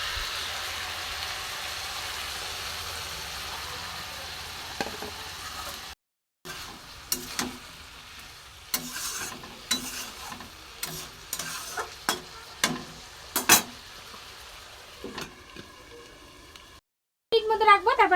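Small fish curry sizzling and frying in a pan as a little water is added, with stirring clatter and short pauses; close and steady under the hiss.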